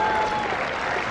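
Tennis crowd applauding after an ace at the Delray Beach tournament, a steady, dense wash of clapping from a large audience throughout, fairly loud and even.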